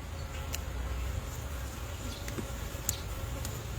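Honeybees hum around an open hive during an early spring inspection, a continuous low buzzing drone at close range, with occasional individual bees zipping past.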